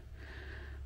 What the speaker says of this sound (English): I am huffing and puffing.